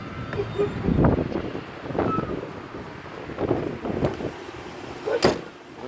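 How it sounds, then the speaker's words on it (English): Gusty wind buffets the microphone in rumbling bursts on a wood plank road in California, with a few thumps and a sharp knock near the end. "It is windy out there, folks."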